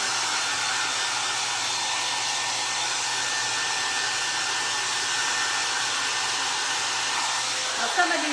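A hair dryer blows steadily on craft pieces for a Dollar Tree primitive ghost frame, a loud continuous whoosh of air that runs unbroken throughout.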